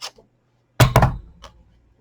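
A 2 1/4 inch paper punch pressing through a sticky note gives a short, firm thunk followed quickly by a second knock, close and clear, after a faint tick in otherwise quiet surroundings.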